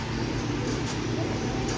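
Imported pigeons, including tipplers, coo softly and steadily in a crowded loft in the Philippines, the low murmur constant under a dense background hum.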